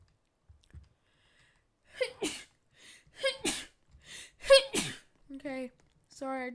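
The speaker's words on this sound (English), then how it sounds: "I just sneezed" A single sneeze from a gamer playing a Roblox game, sharp and close, amid short breaths, clicks and speech sounds.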